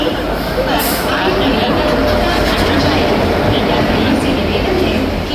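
A WAP4 electric locomotive hauling ICF coaches as the 22157 Mumbai–Chennai Egmore Mail pulls into Bhusawal station, giving a steady, loud rumble of rolling stock with a constant wash of platform crowd chatter.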